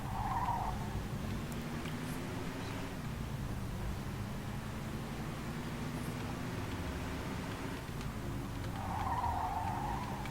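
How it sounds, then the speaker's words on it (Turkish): A car drifts in the Mafia 2 video game, with its engine droning steadily throughout and tires squealing in short bursts at the start and near the end. "Öf çok güzel drift attık"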